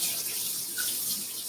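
Tap water runs into a sink for a quick rinse, giving a steady, close, full-bodied splashing rush with no pauses or talking.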